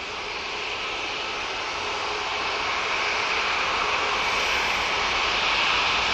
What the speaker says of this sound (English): we got this EasyJet now departing to Berlin